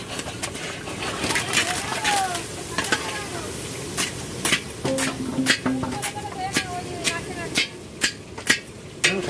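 Onion and panch phoron fry in oil with a close, bubbling sizzle, broken by sharp taps and scrapes of stirring against the pan, while people talk nearby.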